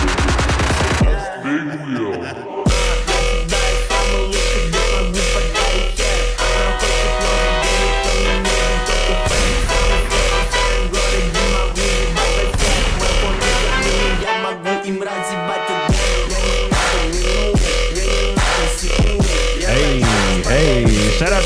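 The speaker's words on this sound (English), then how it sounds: "Yeah, this is EDM." EDM plays loudly and continuously with a driving beat and layered synths, and briefly drops out twice into short breaks before returning.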